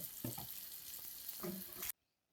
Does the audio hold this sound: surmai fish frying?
yes